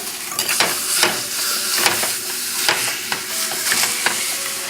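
Ground meat browning in a pan for bolognese sauce, a steady close sizzle broken by repeated scraping strokes of a spoon stirring through it, with no talking.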